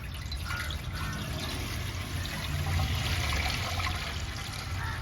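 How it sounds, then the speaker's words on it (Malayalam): Two litres of fresh cow's milk pour into a cooking vessel for Onam semiya payasam, a steady close liquid stream with low gurgling that holds throughout without talk. "അതിനെ നമുക്ക് ഇതിൻ്റെ അകത്തോട്ട് ഒഴിച്ചു കൊടുക്കുക"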